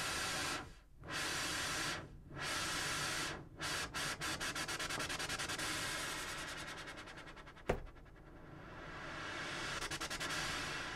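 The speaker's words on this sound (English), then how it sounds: "I'm pressing the pad as hard as I can, but then gradually taking the pressure off of it to give the sound that fluttering effect at the end" A Tubesynth pad on an Akai MPC swells as a dense, noisy wash, with rhythmic dropouts and a fluttering stutter as aftertouch pressure eases off, ending in a sustained hiss.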